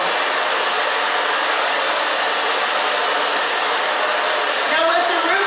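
A hair dryer blows steadily and loudly on the back of the hair during an A-line haircut styling, a constant close whoosh with a slight shift near the end as the airflow moves.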